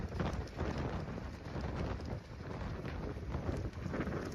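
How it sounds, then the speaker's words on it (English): Loud, continuous wind buffeting the microphone with rumbling gusts during the Los Angeles wildfires, a dense roar throughout and no clear voices. "look how windy it is"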